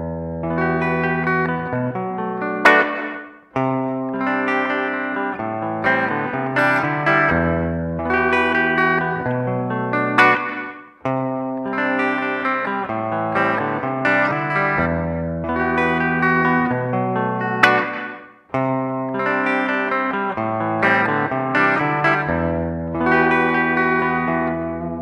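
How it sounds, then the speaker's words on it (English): An electric guitar with an Iron Gear Metal Machine pickup plays a looping distorted riff through reverb, sustained chords and notes ringing out in steady phrases with brief breaks, loud and alone. "Then let's see with the Iron Gear"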